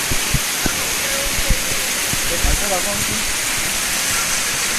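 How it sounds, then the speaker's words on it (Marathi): A waterfall pours beside a basalt rock cave, a broad steady rushing roar that fills the scene, with scattered knocks and thumps near the microphone. "बघा हा धबधबा आहे."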